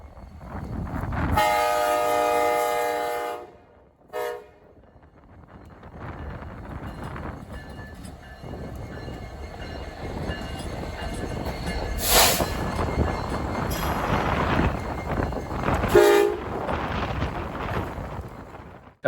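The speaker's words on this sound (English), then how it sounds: "Then L-153 came to town with a BNSF locomotive." Freight train L-153 passes with a BNSF locomotive, sounding a loud horn blast early on, then a steady rumble and clatter of rail cars that builds, with squealing wheels and a second short horn near the end.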